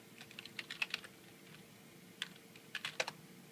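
Quiet keystrokes on a computer keyboard as a default password is entered, a soft irregular patter of clicks in short bursts with a pause midway, faint against a low room hum.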